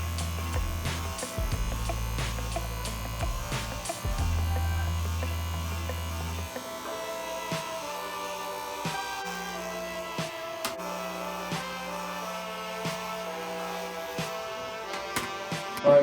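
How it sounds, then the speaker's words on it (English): Electric hair trimmers buzz steadily while cutting hair bald below the line of a hightop fade, a loud close hum that changes pitch and texture as the blades press into hair, running continuously. "I'm just going to go back in with my trimmers to bald everything out under that bottom line"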